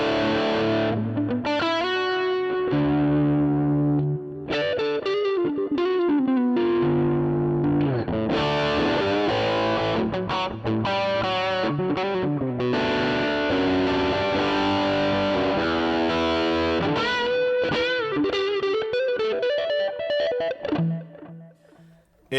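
A Flamma E1000 electric guitar played through a distortion channel with analog delay and a touch of spring reverb rings out in sustained, saturated chords and melodic lines, alone and up front, fading out at the end.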